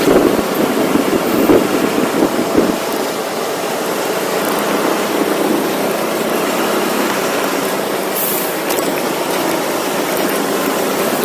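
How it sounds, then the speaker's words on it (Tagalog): Motorcycle riding over a rough, broken road full of chunks and potholes, a constant loud rumble and wind roar with occasional thuds and jolts, no voices. "Lumalakabog na lang yung mga sasakyan dito tsaka yung motor ko"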